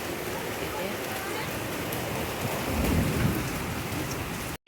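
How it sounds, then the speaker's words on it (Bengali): Heavy rain pours steadily in a dense continuous hiss, with a low thunder rumble swelling briefly near the end and a person talking faintly under it. "অজরে বৃষ্টি হচ্ছে।"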